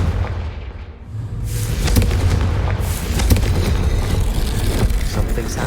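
Confringo blasting spell explosions in the video game Hogwarts Legacy: a low rumble swells into loud, layered booms and crackling blasts that carry on to the end.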